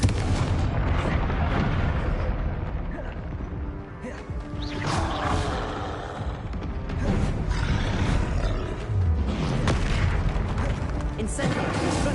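Confringo blasting spell in Hogwarts Legacy, heavy booming blasts and roaring rumbles repeating through the stretch amid spell-combat noise, loud and dense.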